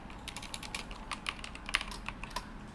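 Rapid, light clicks of fingers typing on a computer keyboard while writing CSS, uneven bursts of close, quiet keystrokes with no speech.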